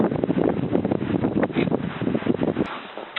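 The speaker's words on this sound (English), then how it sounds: "Now it's pretty windy" Gusty wind buffets the microphone outdoors in Wyoming, rumbling and roaring in uneven bursts before easing off at the end.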